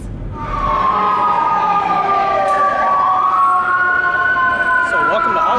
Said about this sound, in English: where the sirens are constantly going like New York City